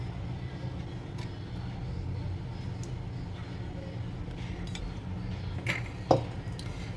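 A tempering ladle and pots clink faintly while lemon rice is being cooked, with a couple of brief metallic taps late on over a steady low kitchen hum.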